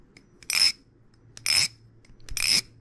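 A balisong butterfly knife is flipped, making three short, bright metallic clacking bursts spaced about a second apart, each close and crisp against a quiet background.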